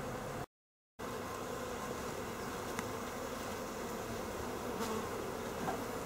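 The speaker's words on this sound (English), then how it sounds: "The bees look pretty good. It's a small cluster, but that's just because it's a new package." Honey bees from a newly installed package hive, a small cluster, buzzing in a steady continuous drone during an open-hive inspection, close and fairly even, with a brief silent gap near the start.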